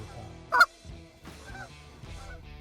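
Resident geese honking on a small pond, a loud sharp honk close by followed by several softer calls trailing off across the water in a calm, windless setting.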